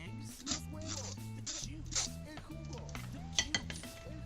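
Fried potatoes are folded and coated in beaten egg for a Spanish tortilla, with wet scraping strokes and a few light utensil clinks against a bowl, close and fairly soft beneath steady background music.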